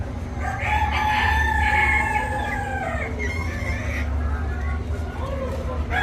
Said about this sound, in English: That's a pretty little rooster.